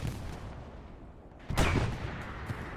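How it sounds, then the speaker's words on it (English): Artillery fire in the video game Hell Let Loose: a low battlefield rumble, then a sudden heavy blast midway that rolls on loudly, with further distant thuds under it. "Explosion over there takes down plenty of players. Like that is artillery from Actum."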